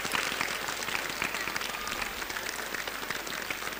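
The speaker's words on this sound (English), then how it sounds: "can we give a louder cheer for Group Captain Shubhanshu Shukla?" A large crowd of students claps and cheers for Group Captain Shubhanshu Shukla at an International Day of Human Space Flight event, a continuous dense wash of applause with cheering mixed in, steady and sustained.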